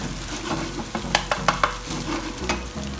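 Egg sizzling in a hot pan for chicken Szechuan fried rice, with a steady frying hiss, low clatter underneath, and several sharp scraping strokes of a spatula near the middle.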